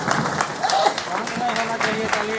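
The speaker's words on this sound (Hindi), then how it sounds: "सब पे हम लोग जोरदार ताली मारेंगे।" An audience at a church autonomy jubilee celebration claps in steady applause while a voice keeps talking over it.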